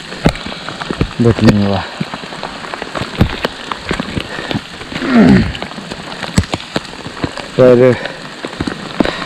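Heavy rain drums on the Shrikhand Mahadev trek in the Himalayas, a steady patter with sharp drops striking nearby surfaces while someone talks intermittently over it.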